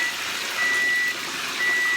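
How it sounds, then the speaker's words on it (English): A steady high-pitched electronic beeping from a kitchen timer, two long tones separated by a pause, over a constant hiss of background noise. "So the timer is beeping."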